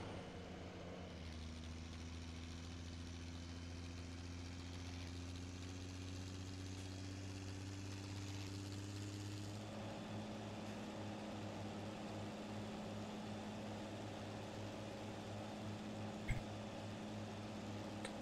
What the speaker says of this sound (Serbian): traktor je bučan